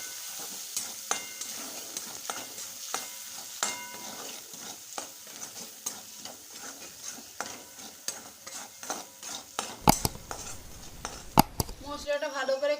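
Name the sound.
stirring spices frying in a pan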